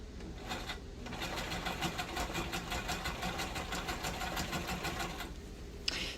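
Sewing machine double-stitching a pair of coveralls, a close, steady rapid needle clatter over a motor drone that starts and stops after about five seconds.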